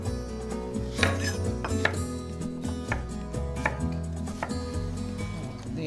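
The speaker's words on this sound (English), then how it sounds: "I'm gonna slice an onion" A knife slices an onion on a cutting board in a home kitchen, producing several sharp chopping taps spaced about a second apart. A steady background hum and clinking pan sounds run underneath.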